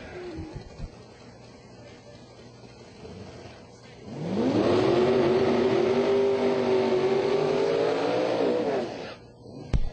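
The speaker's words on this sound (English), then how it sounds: "Big Schmunky burnout for Tony Nesbitt." A drag racing Corvette does a burnout at a strip: after a few quiet seconds the engine roars up loudly, holding a steady high rev with tire noise for several seconds before cutting off.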